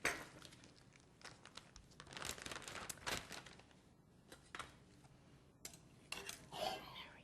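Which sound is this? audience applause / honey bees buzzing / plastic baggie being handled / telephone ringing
plastic baggie being handled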